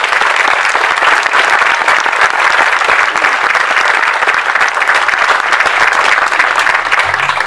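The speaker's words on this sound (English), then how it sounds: "Let's give him a round of applause." Sustained, dense applause from an audience at a Veterans Day ceremony in Leesburg, steady and loud throughout with no pauses or talk.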